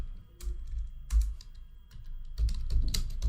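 Rapid keystrokes clatter on a computer keyboard while a form is filled in, irregular bursts of close, crisp clicks with brief pauses between runs of typing.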